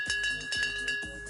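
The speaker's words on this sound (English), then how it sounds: "The bell has sounded." A bell rings to start a race, struck in a quick rhythmic series of bright metallic clangs that cut off sharply.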